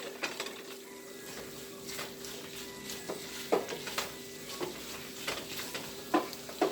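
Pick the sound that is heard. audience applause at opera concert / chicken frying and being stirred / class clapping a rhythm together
chicken frying and being stirred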